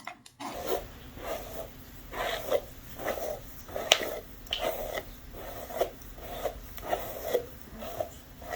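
A boar bristle brush strokes through hair just freed from brush rollers, giving a steady series of soft, close bristly swishes about every half second, with no talk over it.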